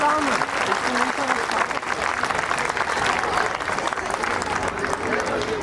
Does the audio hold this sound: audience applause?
yes